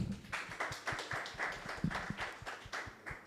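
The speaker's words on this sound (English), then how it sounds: "A round of applause once again." A small panel audience claps, the individual hand claps distinct and fairly sparse, giving a thin, uneven rhythm at close range with no talk over it.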